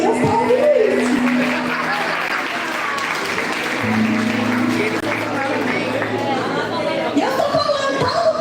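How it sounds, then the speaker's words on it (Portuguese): Church congregation applauding together during a Portuguese-language sermon, a steady, dense wash of clapping that fills the space throughout, with murmuring voices and a low sustained tone underneath. "Vocês podem aplaudir, porque Deus está ouvindo isso."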